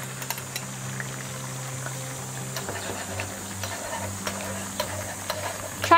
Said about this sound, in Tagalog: Ibubuhos ko na yung aking egg mixture.